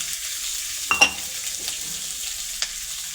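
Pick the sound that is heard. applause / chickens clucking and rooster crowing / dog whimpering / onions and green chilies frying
onions and green chilies frying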